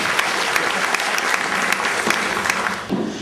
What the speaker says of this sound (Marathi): कलाकारांना हव्या असतात रसिकांच्या जोरदार टाळ्या